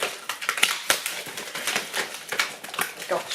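Titanium coated scissors cut through parcel packaging with a close run of rough crunching snips and crinkles, irregular and effortful, over about three seconds.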